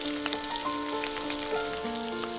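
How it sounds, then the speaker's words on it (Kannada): Onions frying in a pan for dal khichdi, a steady close sizzle with faint crackles throughout. "ಈರುಳ್ಳಿ ಸ್ವಲ್ಪ ಹಸಿ ವಾಸನೆ ಹೋಗೋವರೆಗೂ ಕೂಡ ನಾವು ನೀಟಾಗಿ ಫ್ರೈ ಮಾಡ್ತಾ ಬರೋಣ."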